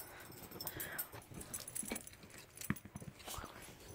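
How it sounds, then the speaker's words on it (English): Small Chihuahua dogs move about inside a house, giving faint yips and whimpers amid scattered clatter and jingling, fairly quiet and close, with no talking. "They're little dogs, like Chihuahuas."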